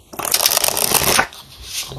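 A deck of Pining Rose Love Oracle cards is riffled in a quick, loud, close burst of fluttering, then settles into a soft shuffle.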